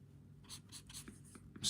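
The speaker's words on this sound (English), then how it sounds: "Right now I'm just using the pencil stump" A pencil stump lightly smudging graphite pencil lines on paper during a slow sketch, giving soft, quiet rubbing strokes in a gentle repeating rhythm, close and faint.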